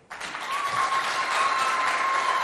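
A school event audience bursts into sustained, dense applause, clapping steadily and loudly from start to finish.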